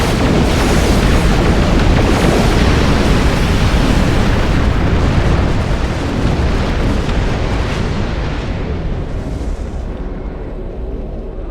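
Space battle in Star Trek Online against Klingon attack ships, a loud, dense wall of roaring explosions and weapons fire that rumbles continuously and slowly eases toward the end, with no speech.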